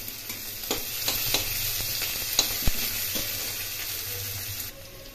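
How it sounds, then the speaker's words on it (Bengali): Chopped onions with cumin fry in hot oil for a potato paneer curry, a close, steady sizzle with a few sharp stirring taps that cuts off near the end. Nobody speaks. "পেঁয়াজ কুচিগুলো একটু ভালো করে ভেজে নেব।"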